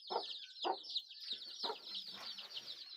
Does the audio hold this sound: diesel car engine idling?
no